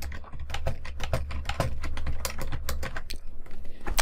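Rapid, close keystrokes clatter on a computer keyboard in an irregular rhythm while someone types text, with no talking.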